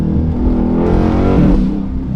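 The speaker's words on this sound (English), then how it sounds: "Would y'all boys rather hear a Scatpack engine or hear a Hellcat engine?" A Dodge Scat Pack 392 V8 engine revs up loud and close, its pitch rising and then easing back in one throaty burst.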